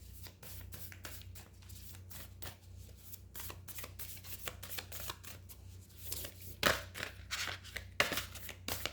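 Oracle cards are handled and shuffled close up, a fast run of crisp riffling flutters and soft slaps that keeps on steadily and gets a bit louder near the end.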